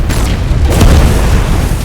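A loud, deep explosion boom in a TV drama, a sustained rumbling blast that fills the short clip.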